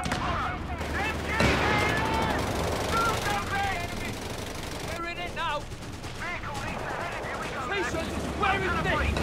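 Rapid machine-gun bursts crackle through a Company of Heroes 3 2v2 battle, dense and continuous amid other combat noise, with voices talking over the fire.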